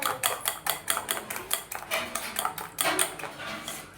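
Whisk or spoon beating bread omelet egg batter in a bowl, a quick run of sharp clinks and taps against the bowl's sides, close and steady with no talk.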